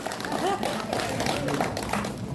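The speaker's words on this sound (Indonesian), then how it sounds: "Tepuk tangan untuk Bang Rizal Ramli" An audience at a televised political debate claps for Rizal Ramli, a brief burst of crowd applause mixed with voices and some thumps.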